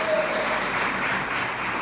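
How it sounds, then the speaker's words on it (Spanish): Brief burst of congregational applause in a church service, a dense wash of clapping at moderate level with no distinct individual claps and no talk over it. "Dale un aplauso bien fuerte al Señor."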